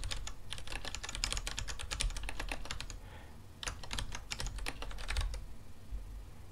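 Typing on a computer keyboard while filling in a form, with rapid close key clicks in two bursts separated by a short pause, steady and moderately loud with no talking.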